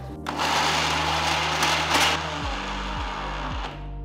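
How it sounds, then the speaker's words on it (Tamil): Kitchen mixer grinder blending coconut chutney ingredients with coconut oil, a loud whirring motor hum with gritty grinding that steps down in pitch repeatedly as it slows toward the end. "மிக்ஸி ஓப்பன் பண்ணி திருப்பி விட்டுட்டே அரைச்சிங்கன்னா உங்களுக்கு நல்லா வந்துடும்"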